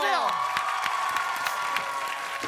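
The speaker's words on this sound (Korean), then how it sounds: "박수 한번 주세요" A studio audience at a Korean comedy show applauds and cheers, a loud dense wash of clapping with some whoops, while a descending musical sting fades at the start.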